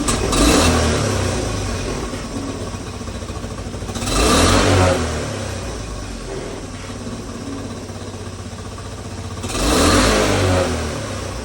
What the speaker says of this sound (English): what I like about that throttle rev is we got rid of a problem that existed before